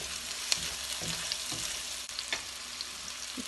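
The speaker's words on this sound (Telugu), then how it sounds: "ఆవాలు జీలకర్ర వేగిపోయాయి కదండి, ఆనియన్స్ వేసేస్తున్నాను" Onions go into a pan of mustard seeds and cumin already frying in oil for a masala brinjal curry, giving a continuous close sizzle with a few stirring knocks and scrapes, no voices.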